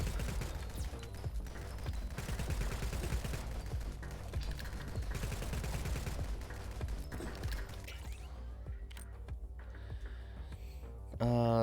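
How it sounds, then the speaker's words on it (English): Exploding homing bullets and rapid gunfire in the shooter game Nimrods, a dense stream of crackling pops and small blasts that thins out toward the end before a sudden loud burst. "So now all of these homing bullets are exploding."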